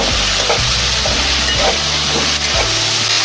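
Onion sautés in a pan with a loud, continuous sizzle, and a spoon stirs and scrapes against the metal at regular intervals. No one speaks.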